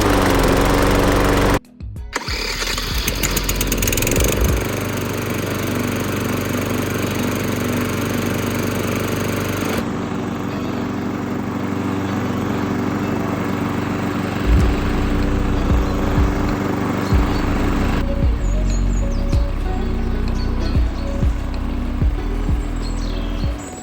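A new Mountfield electric-start petrol lawnmower engine runs steadily and loudly for the whole stretch, a close, continuous drone with small shifts in tone and no voices over it.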